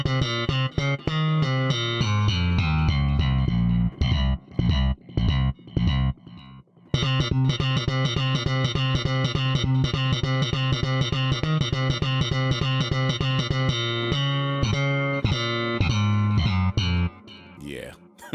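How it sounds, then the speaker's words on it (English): A tape echo delay effect from the SampleTank 3 software instrument repeats synth notes in a steady, busy pattern. The echoes trail off briefly in short gaps before the line resumes at a loud, constant level. "Actually, let's grab a tape echo."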